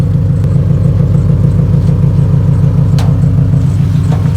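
A lowered stance car's engine runs with a steady, loud, deep rumble close to the microphone, holding an even idle-like drone throughout with faint clicks on top.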